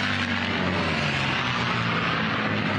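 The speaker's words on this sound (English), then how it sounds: "There's the planes in pursuit right there" Unlimited-class racing planes roar past at close range during a heat at the National Championship Air Races, a loud, continuous propeller-engine drone that holds steady throughout.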